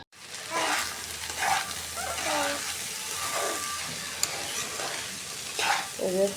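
Rice for khichuri is stir-fried in a pan, with repeated scraping stirs and a soft sizzle in a few bursts, close by, while a voice talks quietly over it.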